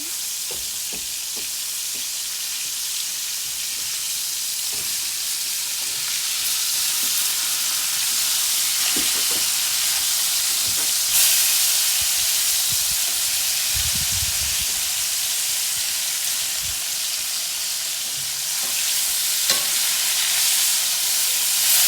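Mangalitsa chicken fried steak sizzles and hisses steadily in a pan, a continuous close frying crackle that runs without pause, with occasional soft clinks and stirring noises.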